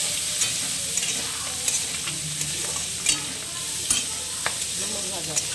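Figs frying with salt and turmeric are stirred in a pan, with a steady sizzle broken by repeated scraping knocks of the spatula at irregular intervals, fairly close.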